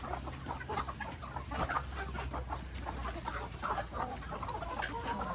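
Chickens cluck and squawk in a rapid scatter of short calls while a dog named Kraken chases them, the noise moderately close over faint background hum.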